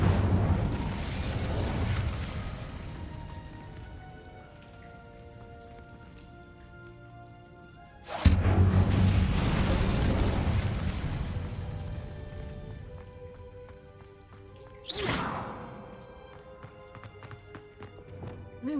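In the video game Hogwarts Legacy, the Incendio fire spell is cast with sharp whooshing bursts, two of them loud and close, over a rumbling ambient game soundscape with no talk.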